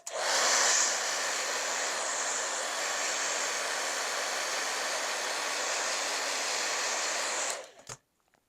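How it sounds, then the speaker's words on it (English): A hair dryer blows steadily and loudly for about seven seconds, aimed at a sticker on a ceramic base, a broad whooshing hiss that cuts off abruptly near the end. "let's see if the blow dryer works on ceramic"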